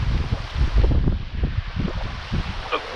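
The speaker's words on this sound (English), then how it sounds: "Ooh, Lord, it's wind." Wind gusts buffet the microphone beside a mountain trout stream, a dense low rumbling roar that swells and fades over the steady rush of water.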